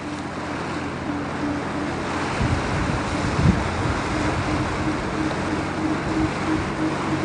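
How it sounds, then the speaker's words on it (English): Swift ocean current rushing past a boat over the atoll path at Apataki, a steady broadband wash of water with wind buffeting the microphone, fairly close and continuous, with no voices. "the water is moving past the boat rather fast"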